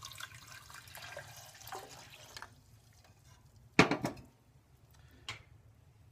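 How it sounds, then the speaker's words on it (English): Water is poured into a pan of salted bamboo shoots: a faint, soft trickle at first, then a couple of brief louder splashes in a quiet kitchen. "Pour in some water."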